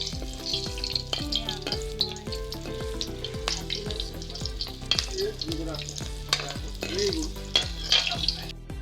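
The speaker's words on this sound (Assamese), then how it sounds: "এতিয়া মই কেৰাহী গৰম হোৱাৰ পাছত তেজপাত আৰু জলকীয়াকেইটা দি দিছোঁ।" Steady oil sizzle and spatter from bay leaves and green chillies frying in a hot wok, with occasional stirring scrapes, continuous and close, no voices.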